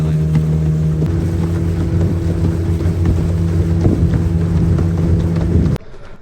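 Motorboats heading from town out to Bighorn Island drone steadily nearby, a continuous engine hum with wind noise that cuts off abruptly at the end.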